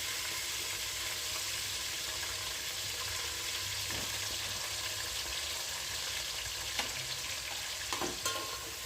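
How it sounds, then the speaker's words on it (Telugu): Sliced onions and green chilies sizzle and fry steadily in a hot pan for chicken biryani, a continuous close crackle with occasional soft stirring scrapes and no talk. "ఇవైతే వేగినాయండి. ఉల్లిపాయలు, పచ్చిమిరపకాయలు అయితే వేసేస్తున్నాను ముందుగా."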